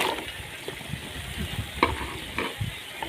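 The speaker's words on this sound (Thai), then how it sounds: "ผัดกระทะใหญ่นะคะ" Steady sizzling and scraping of holy basil stir-fry cooking in a large wok, with occasional metallic clinks of a utensil.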